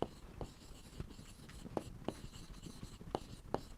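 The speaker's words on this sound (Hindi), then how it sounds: "इंग्लिश में लिख दूं यहाँ पे" Chalk tapping and scraping on a classroom board during a Hindi-medium biology lesson, a series of sharp, close taps and short strokes at an uneven pace, with no talk over them.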